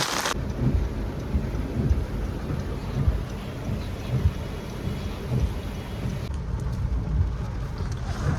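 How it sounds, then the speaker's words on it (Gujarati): Heavy monsoon rain pours steadily in Dhansura, Gujarat, with a deep, continuous low thunder rumble beneath it, loud and close, with no voices. "કેવો વરસાદ છે તમે જોઈ શકો છો ભાઈ. વરસાદ સ્ટાર્ટ છે."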